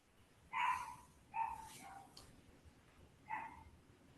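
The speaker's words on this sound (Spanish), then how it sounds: "Ahí hay un perrito que quiere contestar." A small dog barks three times in short, sharp yaps at moderate distance, spaced irregularly over a quiet room background.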